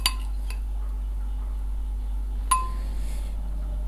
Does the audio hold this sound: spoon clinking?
yes